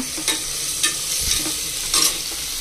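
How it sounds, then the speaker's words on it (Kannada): Cabbage stir-frying in a pan, a steady close sizzle with a few brief louder bursts of stirring and scraping, no voices. "ಹೀಗೆ ಇವಾಗ ಇದು ಚೆನ್ನಾಗಿ ಫ್ರೈ ಆಗಲಿ"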